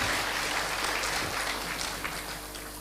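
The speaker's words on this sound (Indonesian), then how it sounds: "Oke, tepuk tangan yang meriah." An audience at a student discussion in Lampung claps and cheers together in a sustained, dense wash of applause, moderately loud and fading slightly toward the end.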